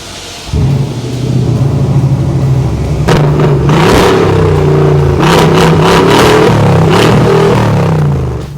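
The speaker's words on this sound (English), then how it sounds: "Let's start it so that you can enjoy the sounds of the exhaust system" Mercedes-AMG G63 V8 with a newly installed adjustable exhaust starting up and revving, a loud, close, steady rumble with repeated sharp throttle blips from about three seconds on, no talk.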